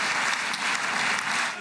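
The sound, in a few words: applause during president's speech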